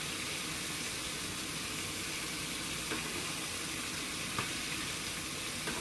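Fast food fries sizzle steadily in hot oil, a dense, even hiss with faint pops and crackles throughout, close and continuous with no talking over it.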